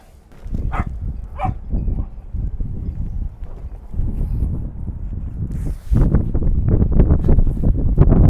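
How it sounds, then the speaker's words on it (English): Wind rising on a sailboat, loud gusting rumble buffeting the microphone, easing briefly and then surging stronger toward the end, with faint knocks and rattles underneath. "What's up with this wind picking up all of a sudden?"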